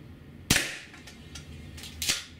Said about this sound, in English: It's still very loud, very strong, hard kicking.